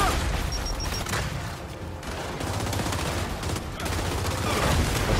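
Sustained automatic gunfire from the third-person shooter video game Gears 5 during combat, a dense continuous rattle of bursts with booms, loud and steady throughout.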